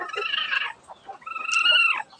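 A brooding black hen sitting on a clutch of eggs gives two sharp, rising squawks with a short pause between, close and fairly loud in a quiet coop.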